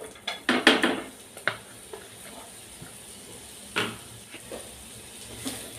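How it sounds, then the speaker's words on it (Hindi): Two medium onions, thickly sliced, go into a little oil in a pan with clattering drops and knocks of metal cookware, then a few lighter clinks and a faint sizzle. "ये पैन में थोड़ा सा तेल है तो इसमें मैं डाल देती हूँ दो मीडियम साइज़ का प्याज।"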